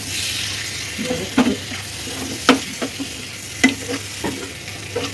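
Eggs stirred into egg roast masala in a pan, a spatula scraping and clacking in an irregular rhythm over a steady sizzle, close and fairly loud, no speech.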